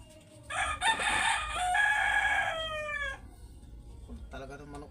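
A rooster crows loudly nearby in a long, wavering call, then a shorter second crow follows after a pause, against quiet outdoor background.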